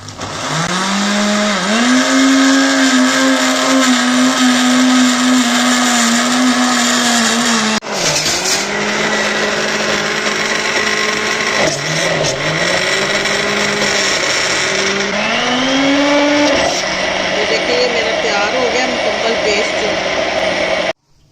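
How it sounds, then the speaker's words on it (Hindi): A mixer grinder jar whirs loudly while grinding spice masala into a fine paste for fried fish, a steady motor drone that dips and surges in pitch several times, then cuts off at the end. "अब इसको अच्छी तरह से हम मिक्स भी करेंगे और इसका पेस्ट बनाएंगे बारीक सा"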